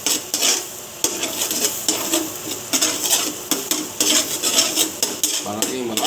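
A utensil scrapes and clinks steadily against a cooking pan as garlic and butter are stirred in oil for pork buto-buto kaldereta. The strokes repeat close up and loud, with a faint sizzle underneath.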